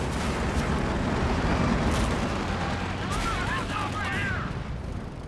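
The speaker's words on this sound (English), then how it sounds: "Looks like one of them gets shot down by a pintle machine gun though." Pintle-mounted machine gun fire aimed at Stuka dive bombers in Company of Heroes 2, a dense, continuous wash of rattling gunfire and battle rumble that stays loud throughout.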